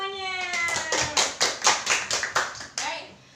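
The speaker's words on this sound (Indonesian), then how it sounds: "Tepuk tangan semuanya." A classroom of students claps in rhythmic unison, about ten crisp, evenly spaced beats. A voice speaks at the start, just before the clapping begins.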